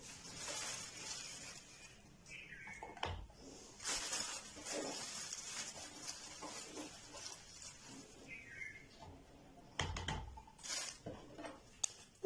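Spoon stirring powdered sugar into half a litre of pulpy orange juice, heard as repeated light clinks and scraping against the container, with irregular louder taps and some background noise.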